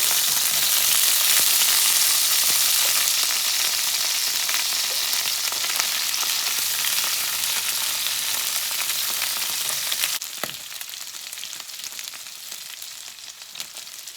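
Carnitas pork pieces fry loudly in a pan, a dense steady sizzle and crackle that continues unbroken, dropping slightly in level near the end, with no talking.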